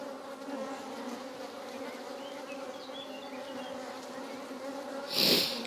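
A steady, dense buzzing of many honeybees in a busy hive, continuous and fairly close, with a brief louder burst near the end as one passes by.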